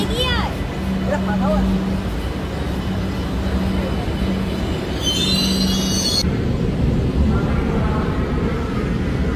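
A Kolkata Metro train running from Shobhabazar to Kavi Subhash, heard from inside, runs with a steady low rumble and a brief high squeal partway through, while people talk over the noise.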